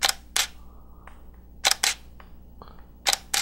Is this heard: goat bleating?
no